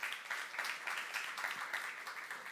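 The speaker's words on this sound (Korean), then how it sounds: "박수며 하나님께 영광 주시기 바랍니다" Members of a church youth-service congregation clap along in rhythmic, pulsing applause, soft and slightly distant, sustained for a couple of seconds without anyone speaking.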